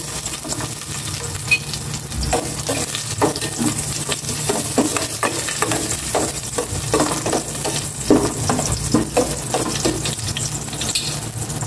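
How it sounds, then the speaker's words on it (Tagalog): Garlic sautéing in olive oil in a pan, a steady close sizzle with repeated scraping stirs and utensil clicks throughout, no one speaking. "Gisa ko na itong bawang"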